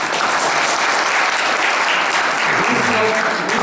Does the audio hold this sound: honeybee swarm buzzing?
no